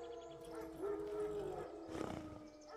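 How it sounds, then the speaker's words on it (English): Wild dogs in The Witcher 3 video game let out a rising howl and then a harsher, roaring cry, moderately loud over a steady ambient background. "Wolves? No. Wild dogs."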